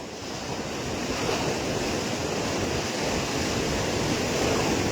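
Water rushes from the opened gates of Chandil Dam near Jamshedpur after heavy rain, a loud, steady, broadband roar that fills the whole few seconds with no break and no voices.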